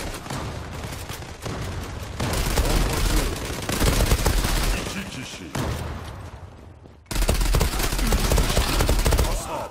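Rapid bursts of Kriss Vector submachine gun fire in a shooter video game come in dense, loud volleys, with short pauses between strings of shots and a voice talking over the gunfire.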